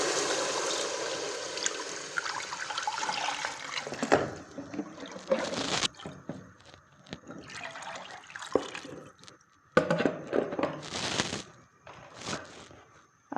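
Thin gram flour and yogurt batter for kadhi poured into a cooking pot, producing a steady liquid splashing and trickling that comes in several separate bursts with pauses between, near and moderately loud, with no talking.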